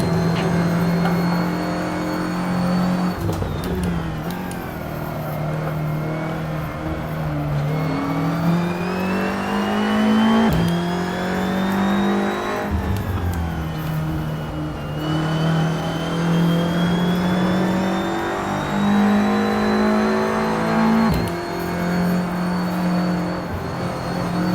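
A car lapping a race track, its engine droning loud and near as it climbs through the revs, drops sharply at each gear change or lift, and pulls again, steady with no talking.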